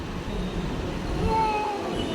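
Mumbai metro train pulling into Ghatkopar station, a steady loud rumble of wheels and motors with a faint brief squeal, heard close on the platform.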